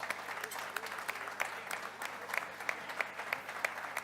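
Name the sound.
audience applause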